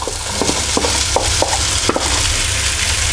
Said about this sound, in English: Okay, in go the onions.